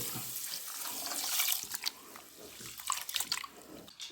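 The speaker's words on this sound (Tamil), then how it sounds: "வந்து அரிசியை ஊற வச்சுக்கலாம் ஒரு 3 கால் எடுத்து" Water running from a tap into a vessel to soak rice for mushroom biryani, a steady broadband splashing stream with small surges, close and alone with no talk.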